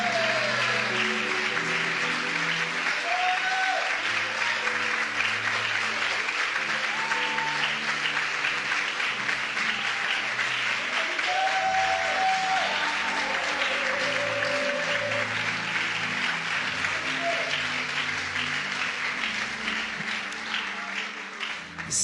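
An audience applauding and cheering at a Christian gathering, a long dense wash of clapping with scattered whoops and voices rising over it, fading slightly at the end.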